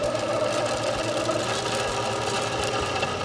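An HD140 line winder runs at a steady pace, spooling fishing line onto a conventional reel with a continuous, even mechanical hum and whir and no voices.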